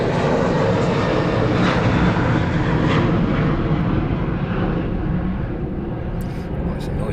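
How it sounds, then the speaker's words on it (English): A fixed-wing airliner thunders away on takeoff from East Midlands Airport on a wet day, a loud, sustained broadband engine roar that holds steady and fades only slightly as it climbs. "Quite some noise as well as that aircraft thunders away from East Midlands"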